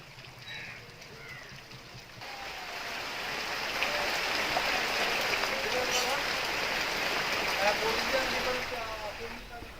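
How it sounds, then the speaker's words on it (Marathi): Torrential monsoon rain falls in Guhagar on the Konkan coast, a broad steady rushing wash that swells louder midway and eases slightly at the end, with faint voices in the background. "गुहागरमध्ये सुद्धा मुसळधार पाऊस सुरू आहे"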